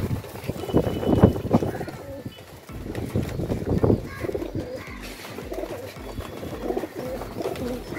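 Pigeons in a loft in Andheri West, Versova, give soft low repeated coos in uneven bursts, close by, mixed with rustling and someone talking in Hindi.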